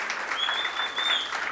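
Crowd applauding the newly elected Star Slate executive at a UNC party meeting in Chaguanas, a steady, dense burst of many hands clapping together, loud and continuous throughout the brief moment with a faint tone running through it.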